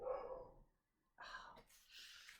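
A pet dog barks faintly indoors: a short muffled yap, a pause, then another brief burst of barking, quiet and slightly distant.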